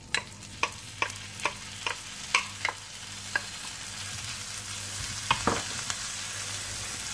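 Chopped onion frying in melted butter in a hot pan, a dense close sizzle with a run of sharp scraping stirs early on and a few more later, with no voices.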